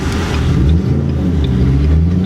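Steady low rumble of a Ford Mustang 3V engine through a Borla exhaust, idling or cruising nearby with a deep, even drone and no talking.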